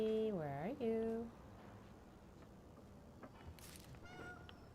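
A cat gives a single wavering meow, loud and close, in Indiana Jones and the Great Circle in the Vatican, followed by quiet ambient game sounds and faint background noises.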